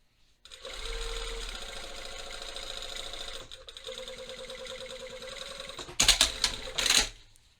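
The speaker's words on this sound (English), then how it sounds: "you can see I'm kind of like going on and off of the sewing" A sewing machine runs close by in one long, steady stretch as it stitches bias tape onto a waistband facing. A few sharp clicks and clatters follow near the end.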